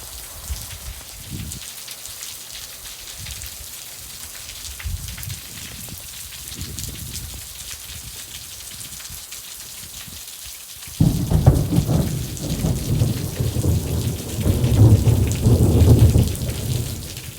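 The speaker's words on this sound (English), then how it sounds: "It's raining pretty hard here" Heavy rain pours down steadily at an Arkansas 4-H center, and partway through a loud, rolling rumble of thunder swells and lingers over the downpour.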